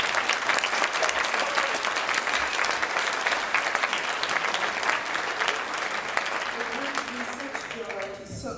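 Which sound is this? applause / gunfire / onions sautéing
applause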